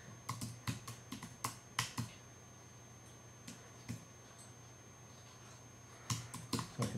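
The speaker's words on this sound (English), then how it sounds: "I can type." Bursts of typing on a Mac computer keyboard, quick clusters of close key clicks separated by short pauses, over a faint steady hum.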